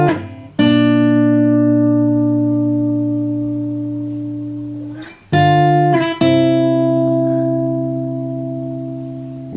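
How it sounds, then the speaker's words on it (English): Lead guitar line from a song played alone, a few clean sustained notes ringing out with long decays, a fresh pluck near five seconds and another at six. "So the first line of our lead guitar sounds like this."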